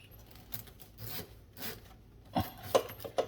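Flexible supply hoses of a Moen Arbor kitchen faucet being pushed down through the sink deck hole, giving soft rubbing and scraping, then a few sharper knocks and clunks near the end; no talking.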